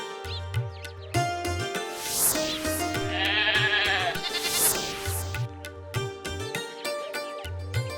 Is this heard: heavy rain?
no